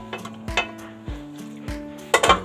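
Ojri (tripe) going into a pressure cooker pot on a stove, heard as several distinct clanks and thuds of pieces dropping against metal with a light sizzle, spaced irregularly and fairly close.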